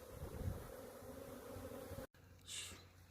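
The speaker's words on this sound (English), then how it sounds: "Them bees is in this hive." Honeybees buzz steadily inside a hive box after a spring swarm, a low close hum that briefly cuts out and returns with a brighter, nearer whine.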